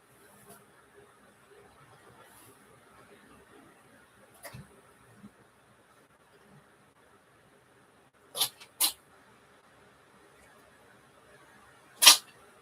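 Sharp sneezes ring out indoors: two quick bursts close together, then a third a few seconds later, each loud and brief against a quiet, faint background.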